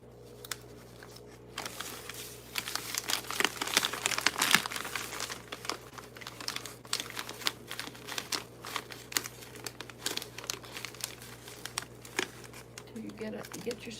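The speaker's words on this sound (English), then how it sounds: "Be careful not to rip your paper." Paper crinkles and rustles steadily as it is handled and folded while a strap is fitted to a basket, with broadband crackling bursts throughout and a low steady hum underneath.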